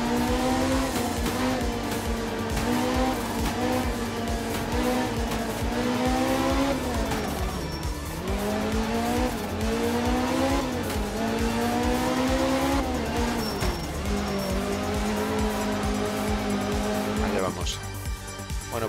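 A rally car in Art of Rally races through a twisty stage, its engine revving and shifting through rising and falling gears, with tires squealing and skidding on corners, loud and continuous for nearly twenty seconds.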